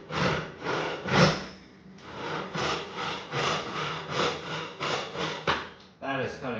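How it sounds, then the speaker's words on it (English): A fine joinery backsaw, converted from a miter box saw, cuts through a piece of birch held in a vise, making steady rhythmic rasping strokes about twice a second, close and fairly loud, with a brief pause partway through. "So now, let's test how this thing works. This is just a piece of birch, put it in the vise."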